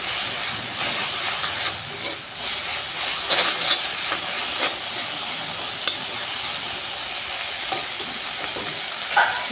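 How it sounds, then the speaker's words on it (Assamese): Leafy greens stirred and fried in a pan with salt and turmeric, a steady close sizzle with scraping stir strokes throughout, no talking. "শাকখিনি অকণমান এনেকৈ ভাজি ল'ম।"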